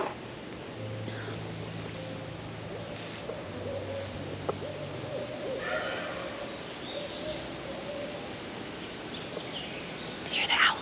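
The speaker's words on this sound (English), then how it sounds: "Do you hear the owls?" Owls hoot in a wooded spring garden, a few low, soft, drawn-out calls carrying from a distance beneath a steady outdoor hiss, with no talk.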